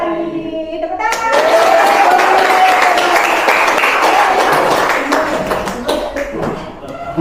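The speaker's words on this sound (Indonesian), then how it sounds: "Tepuk tangan" A group, likely school pupils in a classroom, breaks into loud steady clapping after a chant, with a voice singing or calling over the applause before it fades.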